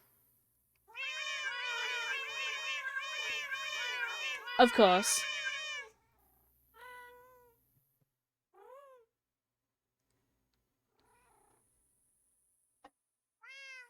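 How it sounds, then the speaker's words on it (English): A cat meows in a long run of rapid, repeated cries, then gives a few shorter separate meows with pauses between; a brief spoken phrase cuts in partway through. "Stop meowing!"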